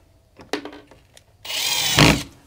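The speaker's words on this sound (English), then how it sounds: "now let's get the screws in" A power drill drives screws into screen door hinges on a log cabin, with a few short bursts early on, then one sustained loud whir that swells near the end.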